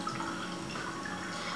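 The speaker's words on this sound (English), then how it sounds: "We'll tip this one off, all the water completely." Rinse water tipped off a batch of washed sushi rice, a steady close splashing and trickling of liquid with faint drips running through the whole short stretch, no voices over it.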